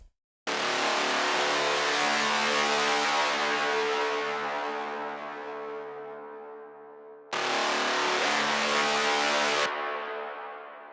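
A synthetic sound effect for an epic hybrid trailer track bursts in loudly and decays through a long reverb tail, then a second hit cuts in and fades the same way.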